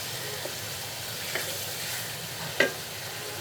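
Spice paste for tomato-based tengra fish bhuna sautéing in a pan, a steady soft sizzle with a few light scrapes of a spoon, the sharpest knock near the end.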